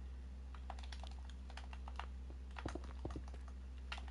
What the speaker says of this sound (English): I'm gonna assume someone's typing right now